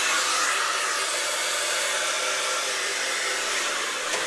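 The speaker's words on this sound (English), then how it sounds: "And blow dry quickly on high and high." A hair dryer runs on high, blow-drying hair with a loud, steady, continuous rushing whoosh close to the microphone, alone without talk.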